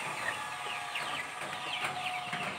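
KUB (kampung unggul Balitbangtan) chickens cluck steadily in a farm coop, their short, scattered calls layered over a constant background hiss.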